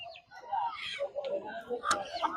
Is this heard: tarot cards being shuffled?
no